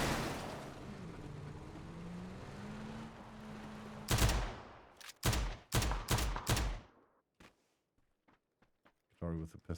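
Drive-by gunfire in the battle royale game PUBG during an EU scrim match: a run of sharp, loud shot bursts in quick succession, then scattered fainter distant pops, following a stretch of caster commentary.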